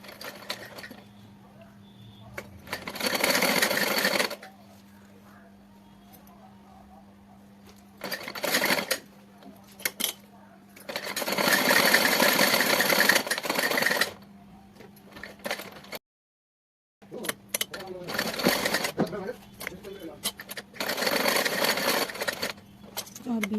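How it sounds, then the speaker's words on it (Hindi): A sewing machine stitching a small cotton-filled quilted mattress with lace trim for a Laddu Gopal idol runs in several close, loud bursts of rapid mechanical stitching, separated by quieter pauses. "और बीच में भी सिलाई एक दो कर देंगे जिससे कि रुई इधर उधर ना हो।"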